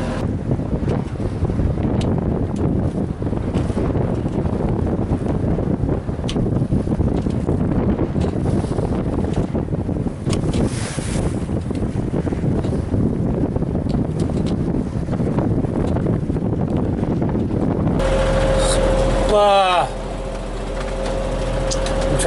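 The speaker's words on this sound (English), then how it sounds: "Wind is just off the nose from the land side." Strong wind roars steadily against a sailboat on a port tack at sea off Nicaragua, with the boat bashing into it near a harbor mouth; loud, continuous buffeting hits the microphone, then near the end a brief mechanical whine cuts in.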